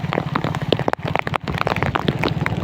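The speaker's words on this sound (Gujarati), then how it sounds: "આવો વરસાદ અમારે કોઈ દિવસ અહીંયા આવ્યો નથી" Heavy rain pours down in Alang, a dense, continuous hiss and patter on surfaces with scattered louder splashes and knocks, loud and close throughout.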